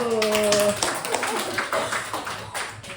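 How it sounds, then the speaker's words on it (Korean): Seminar attendees at a business lecture break into clapping right after the presenter's voice trails off, a moderate, scattered round of hand claps that continues for a few seconds. "오, 박수."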